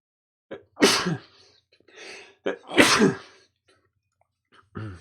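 A man sneezes hard twice in the morning, each explosive sneeze preceded by a sharp intake of breath, loud and close, with a short breath between and another starting at the end.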